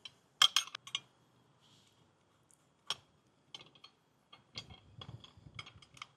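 Black hex head screws are threaded into the lower bracket of an Air Lift LoadLifter 5000 Ultimate rear air helper spring kit, giving scattered faint metallic clicks and ratcheting ticks in short bursts, with quiet gaps between.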